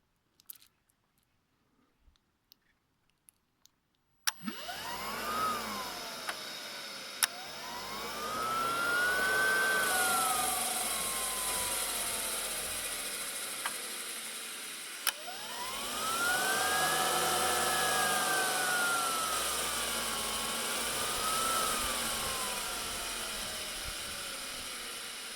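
An engine in an off-grid DC-to-AC conversion setup revs up twice as the throttle turns, each time a whining tone swelling, holding and sliding back down, fairly steady and close, after a few clicks and no talk.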